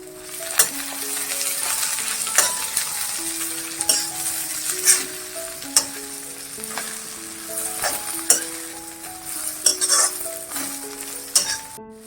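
Green chillies, peanuts and coriander roast in a pan for chilli thecha, giving a steady, close sizzle under repeated clinks and scrapes of a spoon stirring against the metal.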